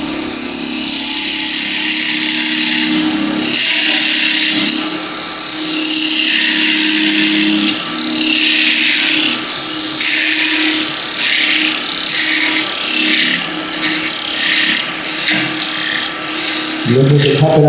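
Wood lathe running steadily while a parting tool cuts into spinning wood at a woodturners' club meeting, a continuous rough, rasping scrape with shifting pitch that carries on throughout, with a jolt of heavier cutting near the end.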